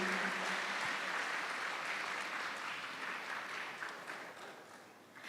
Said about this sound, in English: Give a big round of applause for Mr. Sulfatul Ala, fkep,